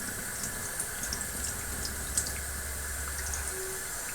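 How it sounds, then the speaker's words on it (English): Tap water running into a sink to rinse a part of an Eheim 2213 canister aquarium filter, a steady close hiss of flowing water with faint splashes and drips throughout. "Just going to turn the water on a bit."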